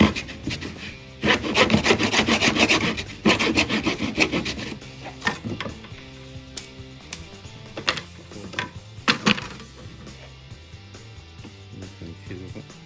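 A wooden stick is sawn to size during a plasterboard repair, with close, rasping back-and-forth strokes that come in bursts, loudest early and then thinning into scattered scrapes and taps.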